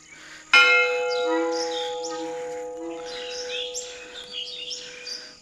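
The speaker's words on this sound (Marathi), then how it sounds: "आता आपले भाऊ वाजवतील घंटा." A single strike of a metal temple bell at a Shiva temple rings out loud and clear, its bright tone sustaining and slowly fading over several seconds while birds chirp in the background.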